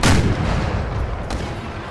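Artillery and mortar fire in Empire Total War booms heavily: a loud deep blast opens, followed by a rumbling barrage and another sharp report about a second later, with no voices over it.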